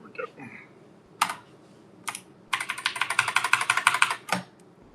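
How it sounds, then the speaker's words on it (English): Keys clatter on a Commodore 64 reproduction keyboard: a few isolated clicks, then a quick, close run of rapid typing, finished by a final sharp keystroke. "My keyboard is the lovely like reproduction of a Commodore 64 with the cool buttons"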